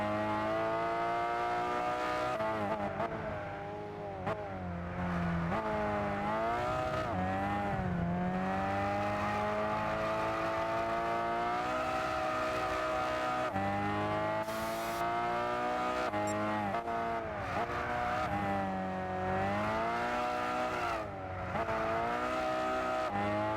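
A race car engine in the video game Gran Turismo 6, droning continuously with rising and falling revs through gear changes and turns, loud and steady throughout.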